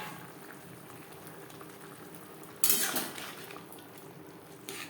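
Garlic- and onion-free jute leaf gravy bubbles in a pot with a soft, steady simmering hiss, interrupted midway by a brief clatter of a utensil against the pot.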